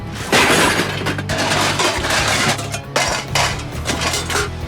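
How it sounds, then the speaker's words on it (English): Metal and junk thrown around for a StarCraft-themed Heroes of the Storm machine map: loud, repeated crashes of breaking and shattering metal, clattering debris and glassy smashes bursting one after another, close and dense. "Yeah, I think we could start just throwing some junk around."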